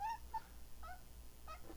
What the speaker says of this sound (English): That's my cat, if you could hear her.